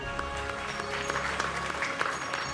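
An audience at an awards ceremony applauds, a moderate clatter of clapping under a sustained musical tone with faint background sound.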